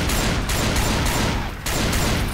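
Rapid, sustained gunfire from Left 4 Dead 2 fills the space loud and dense, a near-continuous burst with only a brief dip before shooting resumes.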